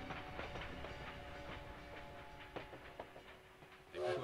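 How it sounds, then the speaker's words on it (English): Train ambience at a Paris railway depot in the video game Valiant Hearts, a steady rumble with rhythmic clicks and clacks of rolling cars, a few sharper knocks, and a brief louder hiss near the end. "At the train depot in Paris"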